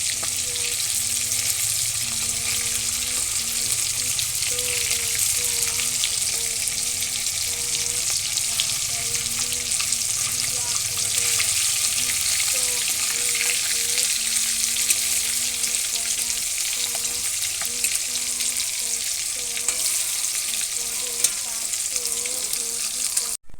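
Rohu fish frying in hot oil in a pan, a steady, dense sizzle that continues close and loud throughout, with faint crackles and no talking.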